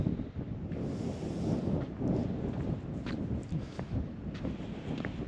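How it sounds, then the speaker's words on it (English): Strong cold wind at an old mine site buffets the microphone in a continuous low rumble with gusty swells and no voices. "it's kind of really cold and windy today"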